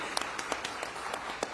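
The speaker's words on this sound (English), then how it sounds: "A round of applause for that amazing statement." A conference audience at the NDTV Profit Conclave 2025, an Indian business event, gives scattered, fairly faint applause, with individual claps standing out over a few seconds.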